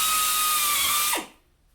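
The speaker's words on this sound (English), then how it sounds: "I'm going to drill this one first, and I'm going to be nice and careful and make sure it's good and plumb" A power drill whines steadily and close while boring a shelf pin hole through a Rockler JIG IT shelving jig, then spins down and falls quiet near the end.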